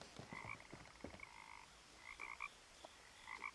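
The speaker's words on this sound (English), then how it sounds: "Lots of froggies." Frogs croaking in What Remains of Edith Finch, a quiet chorus of short, repeated croaks and chirps overlapping at an uneven rhythm, fairly faint and without talk.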